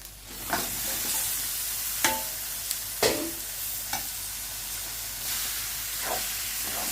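Meat dropped into sizzling spices in a frying pan, with a steady fry hiss and a few sharper spatters and stirring bursts, close and moderately loud, no talking.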